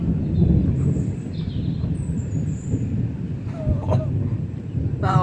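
Thunder rumbling during a thunderstorm, a continuous low rolling roar with some wind buffeting on the microphone and faint crackles near the end.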